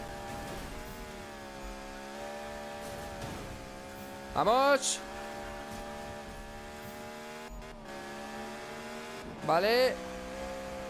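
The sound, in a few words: car engine racing in Need for Speed video game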